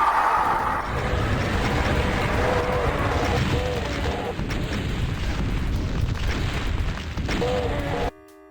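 Gunfire and explosions from the video game Doom, a dense, continuous barrage of booms and bursts that runs for several seconds before cutting off abruptly.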